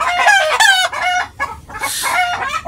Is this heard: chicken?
yes